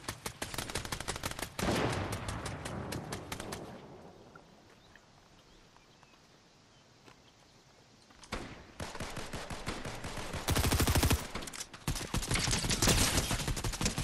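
Rapid bursts of gunfire fill a Fortnite Battle Royale duos match, loud and dense at the start. A quieter lull follows before heavy automatic shooting returns and carries on to the end.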